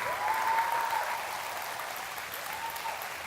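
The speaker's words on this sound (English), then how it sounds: "Clap that up." Applause from an audience for a young speaker who wants to become a Major League Baseball player; brief, fairly faint clapping that fades quickly, with a thin tone at the start.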